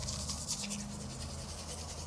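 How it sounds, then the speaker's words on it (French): Steady, close scrubbing of a toothbrush against teeth for two minutes, a soft continuous bristly rasp with no talking. "vous brossez pendant 2 minutes"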